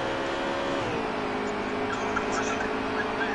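Race cars in a Moonshine Racing League event roar back to racing after a green flag, a steady engine drone with shifting pitch under an excited commentator's voice.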